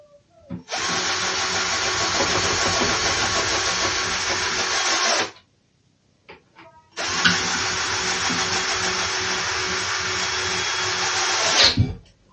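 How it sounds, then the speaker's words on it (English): A power drill whirs loudly in two long bursts of about five seconds each, separated by a short pause, the second ending as the screw tightens. "Get torque on this drill."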